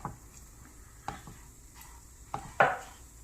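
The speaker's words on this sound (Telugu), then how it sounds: "మంచి వాసన వచ్చేదాకా వేయించుకుందాం." A spoon stirs semolina roasting in ghee in a pan for strawberry kesari, sounding as a few sparse scrapes and taps against the metal over a faint low sizzle.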